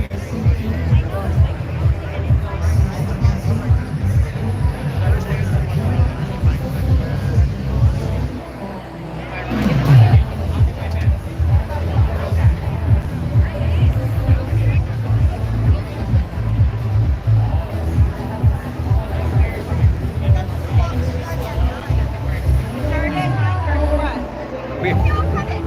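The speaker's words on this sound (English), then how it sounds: "What a crowd." Large crowd at the UJA Walk With Israel, a steady outdoor babble of many voices chattering nearby, with traffic and engine rumble underneath and nearby talk throughout.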